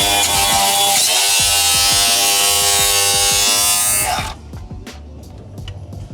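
A Milwaukee saw blade rips through a 2x4 with wood screws in it. The cut is loud and continuous for about four seconds, then stops abruptly, leaving a quieter background with scattered light clicks.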